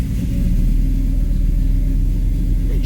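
A 1972 Plymouth Duster's engine runs steadily at idle, a close, loud and continuous low rumble with a slight rhythmic pulse and no talk over it.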